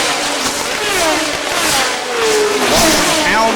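A 1977 McLaren M26 Formula One car at Dijon races past with a high, sustained engine scream that rises and shifts in pitch, loud under a commentator's voice.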